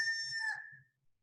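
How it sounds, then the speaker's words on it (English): A rooster crow sound effect from video editing software, a single loud drawn-out cock-a-doodle-doo call lasting under a second, clean and isolated before falling silent. "there are many sound effects like animal sound, or dinosaur sound, or like chicken"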